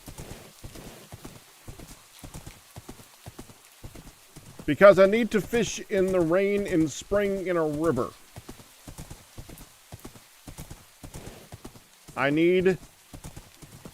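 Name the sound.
horse hooves and neighing in video game Minecraft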